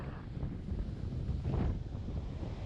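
Strong, gusting wind buffets the microphone on a Long Island beach during surf fishing amid Hurricane Erin swells, a loud, continuous low roar with faint surf underneath.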